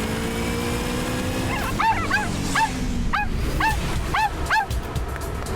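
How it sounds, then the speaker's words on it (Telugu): A dog barks and yips in a quick run of about eight sharp, fairly close calls, sounding agitated, over a steady indoor background hum. "డాగీ, ఎందుకు అరుస్తున్నావు?"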